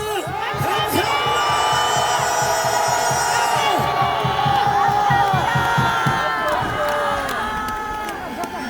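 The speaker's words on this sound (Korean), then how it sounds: "함성 한번 질러주십시오" A large outdoor rally crowd at Park Chung-hee Square by Dongdaegu Station roars with shouts, whoops and cheers, loud and sustained, with overlapping voices and some harmonic yells rising above the din.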